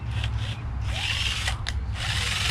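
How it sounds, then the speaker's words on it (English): A cordless drill whirs in short bursts, its motor revving up and down close by with no talking. "Back in business, got the other drill."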